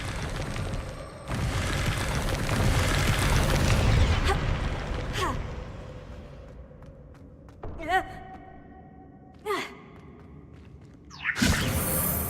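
Bombarda spell in Hogwarts Legacy, a loud booming blast with rumbling whoosh that swells and fades over several seconds, followed by a few shorter magical zaps and bursts, no talking.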